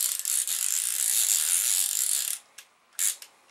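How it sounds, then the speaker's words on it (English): A small socket wrench used on a Commodore 128 keyboard ratchets with a loud, fast, continuous clicking burst, then a few short separate clicks after a pause. The sound is close up and carries no speech. "This is a funny little socket thing,"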